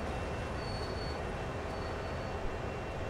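Train running in the simulator Train Sim World, with a steady rumbling roll of wagons and faint thin wheel squeals riding over it, continuous and moderately quiet, no voices.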